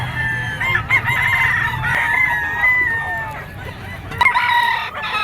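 Roosters crowing at a gamefowl seller's stand, one loud close crow followed by another, with clucking and general farmyard bustle and a low murmur of activity around.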